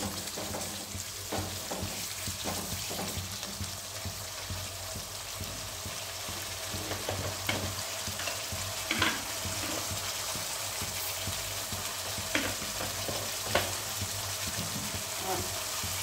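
Spices stirred and fried in a pan, with a continuous low sizzle and scattered scraping knocks from stirring; faint background sounds sit under it.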